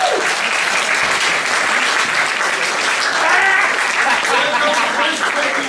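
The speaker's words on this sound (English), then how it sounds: "you should applaud them a lot now" Sustained audience applause at an opening ceremony, steady dense clapping from a large crowd held at an even level throughout, with a few voices mixed in.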